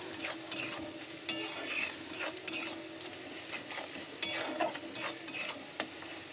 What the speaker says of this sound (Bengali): চলো পেঁয়াজটা আগে লাল লাল করে ভেজে নিই।